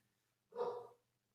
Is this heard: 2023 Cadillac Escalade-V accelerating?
no